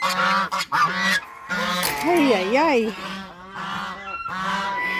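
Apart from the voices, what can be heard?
geese honking while being put to bed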